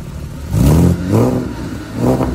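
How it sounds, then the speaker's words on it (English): Porsche 997.1 with a catback exhaust and its valves open, revved three times in quick succession, each throaty blip rising and falling loudly up close. "Give me a couple revs."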